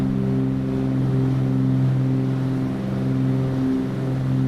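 Twin piston engines of a Cessna C310R in Flight Simulator 2020 droning steadily at climb power, a loud, even, continuous hum with layered engine tones and no talking.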